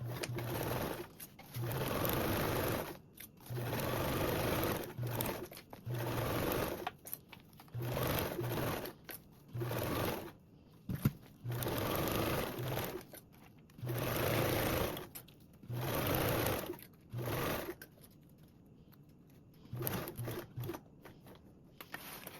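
A sewing machine stitching a quarter-inch seam on a convertible duffle bag panel, running in repeated bursts of a few seconds each with brief pauses between, close and clear with no talk.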